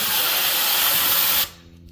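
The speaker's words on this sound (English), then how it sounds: "Get a little compressed air." Compressed air blasting a string through a tube while fitting a fuel tank hose on a 2002 Pontiac Trans Am WS6: a loud, close, steady hiss for about a second and a half, then cut off abruptly.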